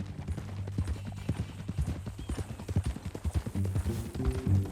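Horse hooves clip-clopping at a steady walking pace in Red Dead Redemption 2, close and fairly quiet, with a few clustered clops and faint game ambience behind.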